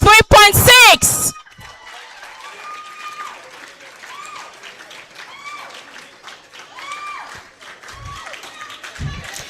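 Steady audience applause at a university faculty dean's awards ceremony, continuous clapping from a crowd after a loud voice on the microphone at the start, with occasional louder claps near the end.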